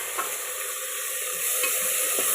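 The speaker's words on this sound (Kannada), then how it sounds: "ಟೊಮೊಟೊ ಹಾಕ್ಕೊಂಡು ಫ್ರೈ ಮಾಡ್ಕೊಳ್ಳೋಣ" Tomatoes frying in a pan for bitter gourd curry, a loud, steady, close sizzle and hiss with faint stirring scrapes underneath.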